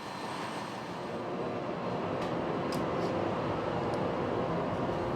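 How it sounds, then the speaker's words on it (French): Large Mediterranean ferry's engine room with the engines and the shaft driving a giant four-metre propeller, a steady loud broadband mechanical roar and hum throughout, with a few faint clanks. "Juste derrière les moteurs, l'arbre de transmission donne toute sa puissance à la gigantesque hélice de 4 mètres de diamètre."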